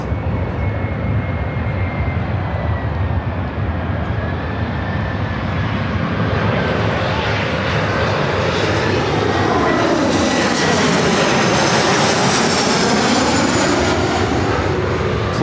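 An Embraer E175 jet airliner arriving, a loud, close engine roar building with a rising whine, then a sweeping pass as it goes by overhead, alone without talk.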